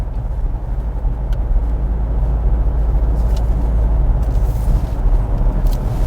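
A Range Rover Velar 3.0 R-Dynamic cruises in dynamic mode through traffic, heard as a steady low road-and-engine rumble from inside the cabin, with a few faint clicks and no talking.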